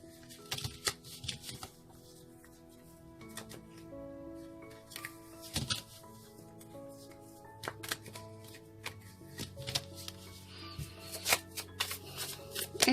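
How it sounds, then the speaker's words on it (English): A deck of cards is shuffled repeatedly, giving quick riffling flutters and sharp taps in irregular bursts, close and fairly quiet, over soft background music with no talking. "3 more shuffles, they say."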